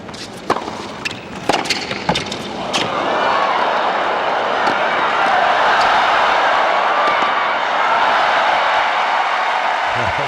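A crowd at a tennis final cheers and applauds after a rally, starting with a few scattered sharp claps and thuds, then swelling into a sustained, roaring wash of applause and cheering that carries to the end.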